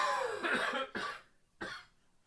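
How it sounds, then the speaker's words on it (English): Three harsh coughs, close and loud, into a microphone, the first two in quick succession and a third after a short pause. "I was trying to avoid coughing into the micro."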